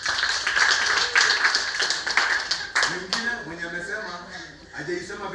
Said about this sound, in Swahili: Apigeni makofi.